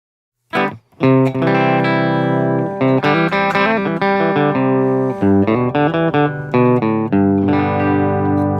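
A clean electric guitar plays a series of ringing chords and single notes through a Deluxe Reverb amp tone, each one bright and sustained with a gentle reverb tail.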